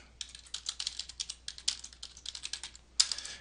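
Rapid typing on a computer keyboard while entering code, close and clear, with quick irregular bursts of keystrokes and a sharper clack near the end.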